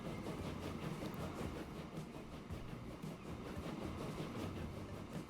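Train running in the video game Transport Fever 2, a steady low rumble of rolling wagons with faint rhythmic clatter, moderately quiet and continuous, with no speech.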